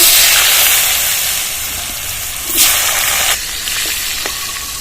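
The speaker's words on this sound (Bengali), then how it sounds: "আর একটু সর্ষে তেল দিয়ে দিচ্ছি কেটে রাখা আলুগুলো তেলে ছেড়ে দিচ্ছি" Cut potatoes dropped into hot mustard oil give a loud, steady broadband frying hiss up close, with a brief surge in intensity partway through and no voices.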